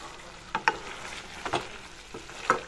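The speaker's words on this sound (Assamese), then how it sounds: "মাংসখিনি এনেদৰে তল ওপৰ কৰি লৰাই দিছোঁ।" Chicken curry with brinjal is turned over in a pan, a few soft scraping stirs with light sizzling beneath, spaced out in separate strokes.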